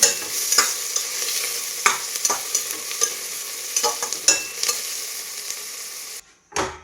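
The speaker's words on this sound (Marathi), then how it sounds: "कांदा याला छान सोनेरी कलर येईपर्यंत तळला गेलेला आहे" Steady sizzle of onions frying in hot oil until golden for biryani, with repeated scraping and stirring clicks throughout, then a brief drop to near silence at the end.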